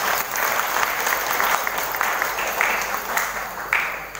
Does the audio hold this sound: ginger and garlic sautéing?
no